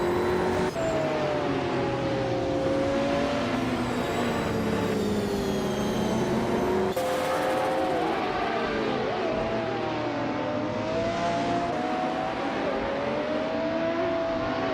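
A 1989 Ferrari F40 Competizione race car on track, its engine note rising and falling steadily and loudly through gear changes, with other racing engines blending in continuously throughout.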